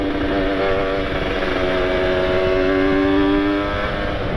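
A Kawasaki Ninja RR sport motorcycle engine revs steadily at high pitch, its tone climbing and holding close by, loud and continuous with no talking.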